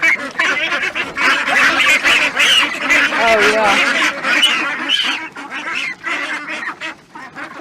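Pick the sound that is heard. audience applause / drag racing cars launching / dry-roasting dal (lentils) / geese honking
geese honking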